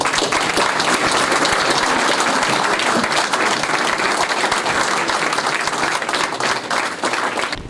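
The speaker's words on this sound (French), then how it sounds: "Je crois qu'on peut encore les applaudir bien fort." A large audience applauding loudly, dense continuous clapping that stays strong for the full several seconds, close and full, with no speech over it.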